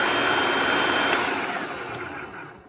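A food processor whirs loudly and steadily as it purees chocolate hummus, its motor tapering off and fading at the end as it winds down.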